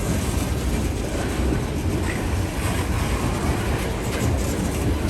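Heavy freight train locomotives labor on wet rails, a steady broadband rumble and grinding roar with faint clickety-clack, close and continuous throughout.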